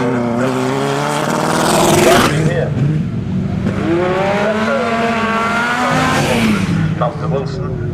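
A period replica Renault 5 Maxi Turbo rally car roars past on a live rally stage, its engine rising and falling loudly with gear changes, while a voice speaks briefly over it.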